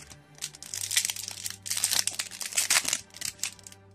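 Crinkly plastic wrapper of a cube-shaped Yu-Gi-Oh booster pack being torn open and handled, a steady close-up crackling and crumpling that runs without pause for a few seconds.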